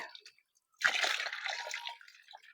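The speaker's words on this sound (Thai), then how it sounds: "เทน้ำใส่ครับเต็มๆนะครับ" Water is poured into a container until it is full: a sudden gush of splashing liquid starts partway through and continues steadily, close and fairly loud, after a brief quiet drip.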